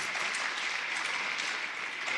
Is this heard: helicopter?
no